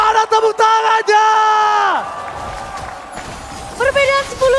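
A crowd at a Mobile Legends esports grand final between ONIC and Geek Fam yells and whoops loudly in a sustained roar that dips and swells again, mixed with excited shouting voices.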